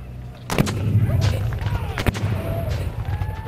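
Two cannon signal guns fire in quick succession at a Gettysburg battle reenactment outdoors, each a loud deep boom rolling out over crowd murmur and background noise.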